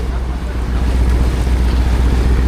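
A boat engine runs without pause on a long sea voyage off Mindanao, a steady low drone blended with wind buffeting the microphone and water rushing past the hull, loud and continuous.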